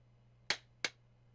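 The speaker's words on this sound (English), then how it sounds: "Kazama held each piece of flint in his hands, clapping them together in a swift motion to produce sparks." Two pieces of flint are struck together to make sparks in the Hakuoki video game, giving two sharp, bright clicks about a third of a second apart over a low steady hum.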